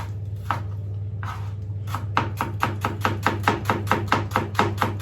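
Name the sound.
slicing onions thinly with a knife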